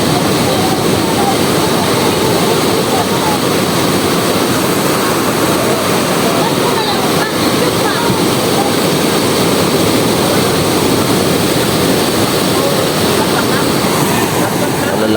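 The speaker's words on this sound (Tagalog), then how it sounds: "Laki ng alon niya, no?" Large sea waves crash and churn in a continuous, loud roaring wash that fills the whole stretch without pause.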